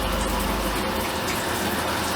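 Hot water tap running in a motorhome during winterizing with antifreeze, a steady close gushing of liquid that holds on without a break.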